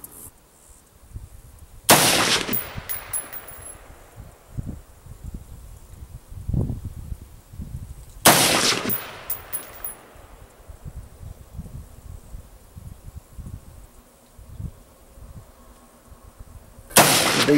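M4 carbine rifle fired at an outdoor range, three sharp loud reports spaced several seconds apart, each with a decaying echo, and faint background rustle between them.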